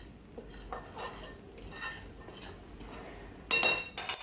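Salt being mixed into flour in a bowl for plantain coconut bread, giving soft repeated scraping and stirring with a couple of brighter clinks near the end, close and moderately quiet.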